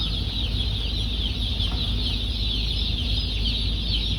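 Many chicks and hens in a poultry house cluck and peep as a dense, constant chatter over a steady ventilation hum, with no one talking.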